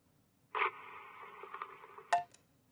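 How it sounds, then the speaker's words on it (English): A video game sound effect of an electric bill being torn up: one short burst, then a sustained rough ripping texture lasting about a second and a half, capped by a sharp electronic click or tone. "That was someone tearing up an electric bill."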